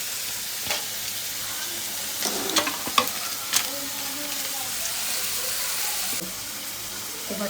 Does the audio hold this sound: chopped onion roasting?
yes